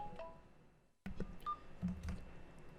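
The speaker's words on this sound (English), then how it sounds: "I got to answer this phone call" Telephone keypad tones and faint beeps from a phone call, quiet and brief, with a short pause and then a few soft clicks and tonal blips.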